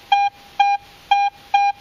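Four sharp, identical high-pitched metal detector beeps in Pro mode at a quick, regular pace, each short and clear against near silence.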